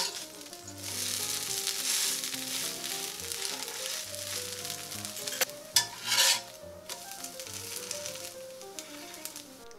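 A toor dal dosa sizzling with ghee on a hot pan gives a steady close crackle, with a couple of sharper clinks and a brief louder hiss near the middle.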